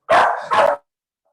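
A small female dog lets out two quick, loud barks close by, back to back, followed by silence.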